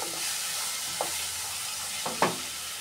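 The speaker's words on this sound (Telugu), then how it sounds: "చింతకాయ పచ్చడిని వేసి ఒక 5 మినిట్స్ బాగా వేయించుకోవాలి." Tamarind chutney frying in a pan, with a steady broadband sizzle throughout and two or three brief scraping stirs of a spoon against the pan, fairly close.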